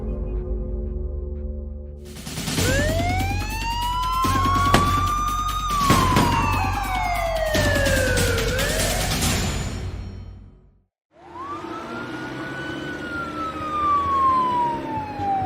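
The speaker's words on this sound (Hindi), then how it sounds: "पुलिस की गाड़ी हाईवे से उतर चुकी थी और रेवाड़ी डिस्ट्रिक्ट की तरफ बढ़ रही थी" A police car siren wails loudly, rising and falling in long sweeping tones over an engine rumble, cuts out abruptly for a moment, then resumes with another climbing wail.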